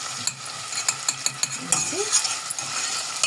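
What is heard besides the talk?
onion frying in oil in a pot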